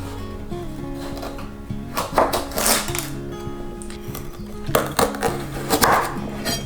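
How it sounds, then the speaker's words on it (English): A knife chops vegetables, likely radishes, for homemade pickles: a few bursts of quick cutting strokes on a board, moderately close, over steady background music with no talking. "Let's get chopping."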